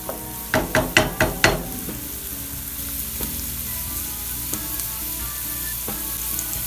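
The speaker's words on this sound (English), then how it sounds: "You're going to saute until they're just translucent. Your burner is on medium-high." Vegetables are sautéed in a pan over medium-high heat for tomato basil pasta sauce. A few sharp knocks of a utensil against the pan open the clip, then a steady, moderate sizzle continues with faint occasional clicks.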